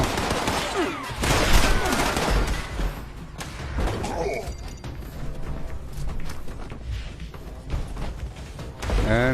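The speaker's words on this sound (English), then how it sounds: "That was a double nuke." A double nuke goes off in Fallout 76, a loud sustained rumbling blast with dense crackling and thudding debris that keeps rolling throughout the clip.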